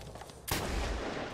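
A single sniper rifle shot in the Medal of Honor Warfighter video game, one loud close blast that cuts in sharply and leaves a long rumbling tail, with no voices.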